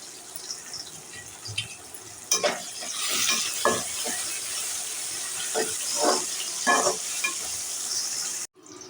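Onion and tomato sauté in a pan with a low sizzle, while a spoon stirs and scrapes in several irregular bursts, close and moderately loud, ending in a sudden cutoff.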